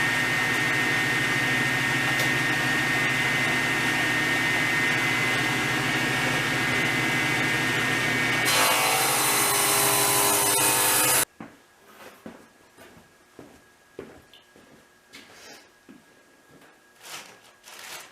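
Power saw cutting a 15-degree bevel into a wooden board for a top bar beehive, a loud continuous grinding whine that ends abruptly. Quieter scraping and handling noises follow.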